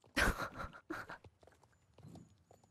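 Horse hooves trotting in Star Stable, with a couple of louder hoof hits at the start followed by softer, quick rhythmic footfalls, close and clear with no talking.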